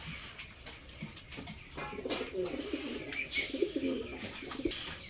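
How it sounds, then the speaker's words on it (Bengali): Pigeons coo in low, throaty murmurs while pecking at feed, soft and fairly close, with scattered clicks and bright chirps over the steady rumbling calls. "এখানে আমার কবুতরগুলা খাবার দেওয়া হয়েছে, ওরা খাবার খাইতেছে"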